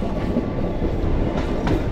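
A Chennai suburban train runs between Beach and Fort stations, heard from inside a carriage as a loud, steady rolling rumble with faint rhythmic wheel clacks.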